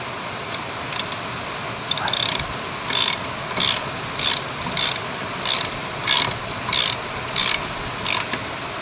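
Socket wrench ratcheting while working on a classic Mini turbo car, heard as roughly a dozen short, evenly spaced clicking bursts over a steady background hiss, close and fairly loud with no talking.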